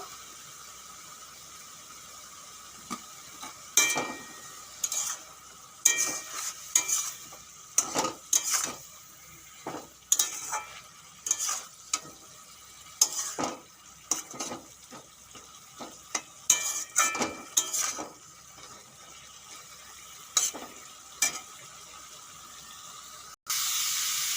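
Pumpkin greens with slit green chillies and salt frying in a pan, a steady soft sizzle broken by repeated scraping stirs of a spatula, close and fairly quiet.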